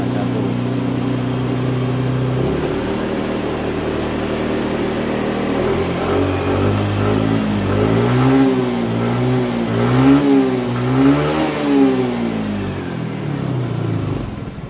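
A Suzuki Address scooter fitted with a full-wave dual-regulator setup idles, then its engine revs up and down repeatedly under throttle, rising and falling pitch sweeps, close and fairly loud with no talking.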